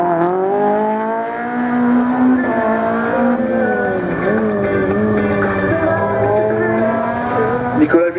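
A Renault Clio Group A rally car races through a slalom course at Lessay, its engine holding a loud, sustained rising and falling drone, with a burst of tire noise at the end. A commentator talks over the car throughout.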